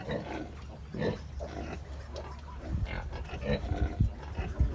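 Wild boar piglets suckle from a sow in a farm pen, giving soft grunts and snuffling, squealing noises close by over a steady low hum, growing busier and louder toward the end.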